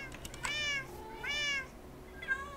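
Cats in the Minecraft video game meow three times in quick succession, the first two clear and drawn out, the last shorter and softer.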